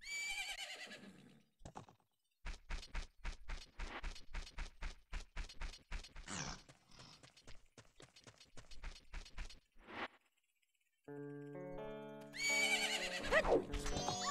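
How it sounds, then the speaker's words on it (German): A horse in the video game Zelda: Majora's Mask neighs at the start, followed by a rapid, evenly spaced run of hoofbeats, a pause, and then chiming game music and effects. "Ist das nicht dein Pferd?"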